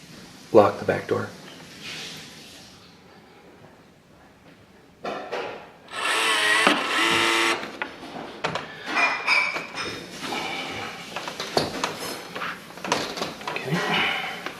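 A motorized deadbolt on a sliding back door locks, giving a brief mechanical whir and clunk amid rubbing and handling noises, with a voice heard near the start.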